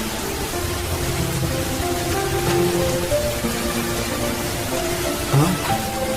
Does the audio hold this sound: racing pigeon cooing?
no